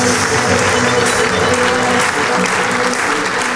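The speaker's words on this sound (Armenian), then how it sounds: "ձեր ծափահարությունները։" Loud, dense studio audience applause from a comedy TV show, steady and sustained throughout with no break.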